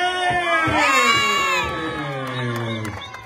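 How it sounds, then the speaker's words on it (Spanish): A lively crowd at a trophy presentation for a first-place finish cheers, shouts and whoops loudly, with high children's voices mixed in and a steady roar that eases slightly toward the end. "Fuerte el aplauso"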